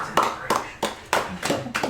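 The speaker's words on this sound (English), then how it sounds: "And the crowd goes wild. A round of applause." A short round of hand clapping from a small group at a tabletop roleplaying session, about six sharp, evenly spaced claps, close and fairly loud with no other sound between them.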